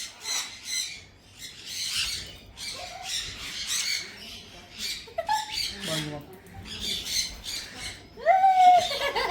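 A large bird at Sky Park in Yercaud lets out a few loud, harsh squawks, close by, with people talking and chattering around it.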